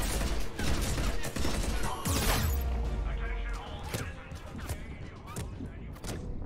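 Gunfire in the shooter Mass Effect 3 crackles in sharp volleys, with thuds and mechanical clanks mixed in and voices speaking over the combat.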